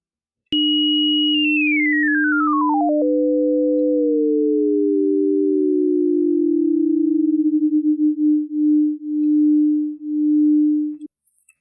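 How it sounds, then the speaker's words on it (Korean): Two pure sine tones, one steady and one gliding down from a high pitch toward it, merge and begin beating, producing a slowing tremolo-like wobble in loudness that ends in distinct pulses before cutting off. "방금 우리는 두 개의 사인파로 맥놀이 현상을 일으켜봤습니다."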